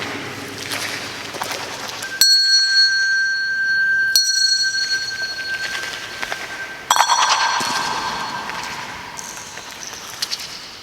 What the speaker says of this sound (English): I've placed a silver bell on the ground.